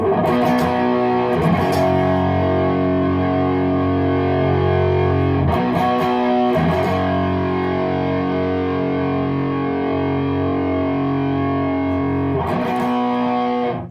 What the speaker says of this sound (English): So let's crank that distortion and see what happens.